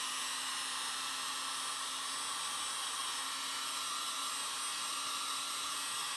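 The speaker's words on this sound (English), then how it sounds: "I've got a little one right here, so I'm just going to put it on low" Small blow dryer on its low setting drying fresh watercolor paint, a steady, even airy whir with a faint hum, running continuously and alone without talk.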